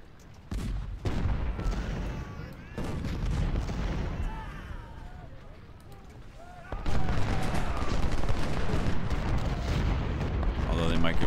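Gunfire and artillery fire from the Civil War strategy game Ultimate General: Civil War, a dense battle din of musket volleys and booming cannon that swells louder in the second half, with voices heard in the mix.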